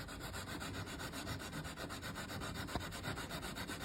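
Rapid back-and-forth rubbing of sandpaper as the top of a wooden friscalettu plug is sanded flat, a close, dense rasping that repeats in quick even strokes with no voices.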